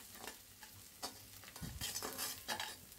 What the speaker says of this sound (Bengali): আমি মশলাটা ভাজা ভাজা করে নিব।